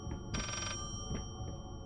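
A telephone rings in the horror game Layers of Fear, one loud electronic trill burst followed by softer echoes, heard alone over a low ambient drone.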